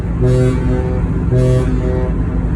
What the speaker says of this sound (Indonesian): Nah itu ada klakson bunyi ya, 3 kali menandakan kapal siap diberangkatkan ya.